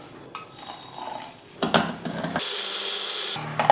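Milk pours into a blender jar in a home kitchen, a close, steady liquid fill sound lasting a couple of seconds after brief handling noises, with no talking.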